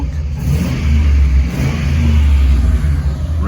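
A 1977 Chevrolet Monte Carlo with a swapped 6.0 Gen 3 V8 revs up loudly and close by, the engine rising and falling in strong throttle blips with no voices over it.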